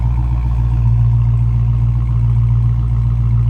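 A 2016 Dodge Challenger SRT Hellcat engine idles steadily up close, a deep, constant low rumble with no revving or talk.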